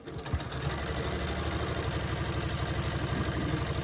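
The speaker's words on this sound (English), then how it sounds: "I'm gonna sew this on." A sewing machine runs steadily while stitching a crumb quilt block, giving a close, even mechanical whir with a fast regular needle pulse that continues without pause.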